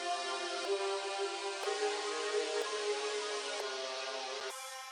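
A Serum synth chord stack with the Shaperbox space-time preset on, giving a dense, pulsing rave texture. It sustains continuously with periodic rhythmic accents, then shifts to a brighter tone just before ending, with no voices.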